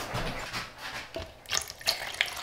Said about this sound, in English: Adding 600 milliliters of water, so it's a 4-to-1 mix